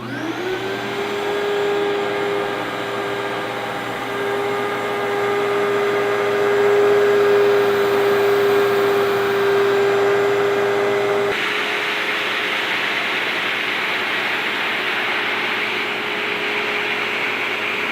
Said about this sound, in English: let's try the same vacuum, the same bag, only this time let's use sand.